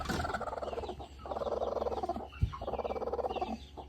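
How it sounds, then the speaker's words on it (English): Turkeys gobble in rapid, rippling bursts inside a farm coop shared with chickens and ducks, two long close rolling calls separated by a brief pause and a sharp knock, over a low steady hum. "We have chickens, ducks, and turkeys. We've got a coop."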